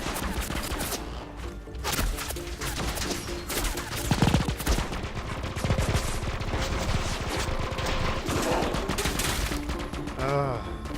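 Dense rapid gunfire in the video game Minimum, rattling bursts and volleys throughout with crashes and impacts, while someone talks over the shooting.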